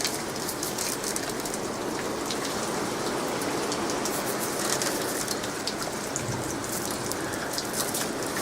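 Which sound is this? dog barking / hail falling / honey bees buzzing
hail falling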